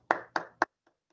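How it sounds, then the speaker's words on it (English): Three sharp hand claps at an Academy of Law alumni fellows ceremony honoring four people, spaced evenly and fading out, followed by a couple of faint taps. "please join me in a final round of applause to congratulate Betsy, Pamela, Mark, and Jean"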